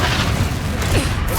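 A Confringo fire spell explodes in Hogwarts Legacy, a loud, dense boom that fills the whole clip over a busy rumble of in-game combat.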